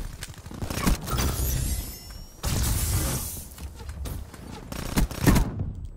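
Rapid bursts of automatic gunfire from a Call of Duty match crackle loudly and almost continuously, with brief gaps between volleys and a few sharper, heavier shots near the end.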